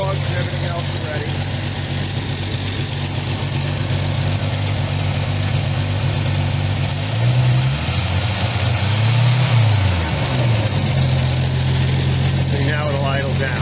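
A 1979 Ford F100 Custom truck engine idles steadily and close by, newly fitted with a Chinese carburetor and running with the choke partly on; its rumble dips and rises midway as the idle settles.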